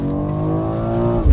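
A 2022 BMW X4 M engine roars steadily under hard launch-control acceleration, its tone holding strong and close, then surging with a low thump near the end.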